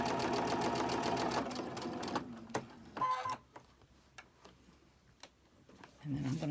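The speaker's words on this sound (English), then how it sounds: "I'm going to go ahead and I'm going to chain stitch these" Sewing machine chain stitching cotton fabric with plain white thread, a fast steady needle rattle for about two seconds, then slowing into scattered clicks and ticks before the motor picks up again at the end.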